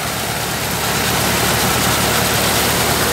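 A Mahindra 575 DI tractor powers a Rajasthani harappa threshing machine in a village field, giving a loud, continuous broadband roar with a low engine hum underneath.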